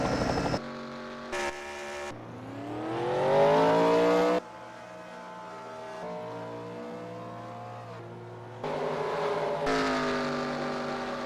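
Race cars at Indianapolis Motor Speedway in a racing game, engines whining and rising in pitch as cars pass and shift, sharp cuts between passes, loud and close with no talk.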